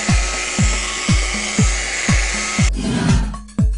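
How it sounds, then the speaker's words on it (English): A polishing buffer with a foam finishing pad and glaze is swept back and forth over car paint at about 1200 to 1400 RPM, giving a close, rhythmic rubbing whir in even strokes about every half second before a louder, steadier spin. "glide the buffer back and forth across the surface"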